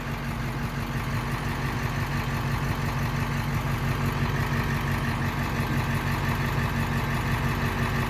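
An old pony motor, a small starter engine unrun for years, idles steadily and close by with a low, even rumble throughout, alone with no voices.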